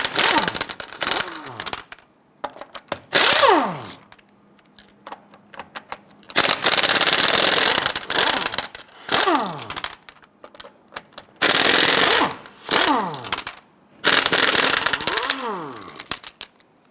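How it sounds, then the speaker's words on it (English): Rear lug nuts on a 2011-2021 Jeep Grand Cherokee are loosened and removed with a 22mm socket on an impact wrench: loud, close rattling bursts of a few seconds each, with the tool's whine rising and falling between short pauses. "Using a 22mm socket, go ahead and loosen and remove the lug nuts"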